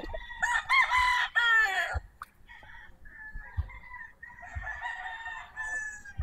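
A white Kelso gamefowl rooster crows loudly nearby, one full cock-a-doodle-doo followed by softer clucking and a second, quieter crow, with other birds faint in the background.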